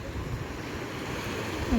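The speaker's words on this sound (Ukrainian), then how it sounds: "Трошки набігають хвильки." Gentle wash of small Adriatic Sea waves against the shore at Durrës, Albania, heard from a small bridge, mixed with wind buffeting the microphone, continuous and close.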